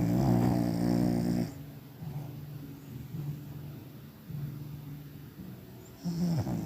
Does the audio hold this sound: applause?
no